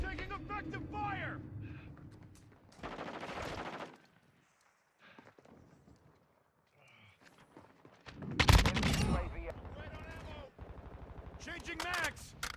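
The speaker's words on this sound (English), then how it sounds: "Taking effective fire!" Gunfire in the Modern Warfare 2 multiplayer video game, with loud bursts of shots and impacts between stretches of shouted voice callouts, plus a near-silent gap midway.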